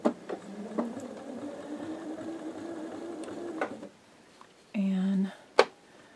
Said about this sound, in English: Okay, so I'm going to start sewing.